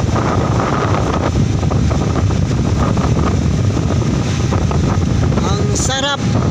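Steady sea breeze roars and buffets across an open microphone out at sea, with a constant rumble like a boat motor beneath and a faint voice near the end.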